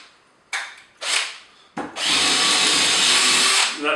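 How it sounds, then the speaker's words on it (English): Hitachi 18V combi drill boring into a wooden block, two short bursts of whirring and then a sustained loud grinding drill run, close up, with no talking. "So here I have a nice block of wood. Let's see if I can drill a hole."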